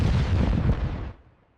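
A V-1 flying bomb explodes in a single loud, deep, rumbling blast that fades quickly into a dull tail.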